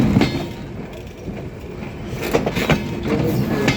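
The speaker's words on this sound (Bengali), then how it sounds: "ট্রেনের কি ওজন রে বাবা!" A heavy train rolls over railway track while switching onto line 3, a close, steady rumbling roar with repeated wheel clacks over the joints and no voices.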